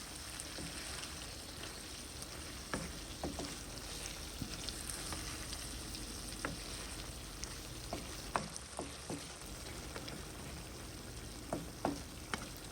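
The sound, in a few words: chicken liver frying with roasted cumin powder, stirred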